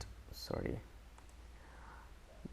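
A computer mouse gives a few soft, close clicks while someone works in Autodesk Revit architecture software, set against a quiet room tone.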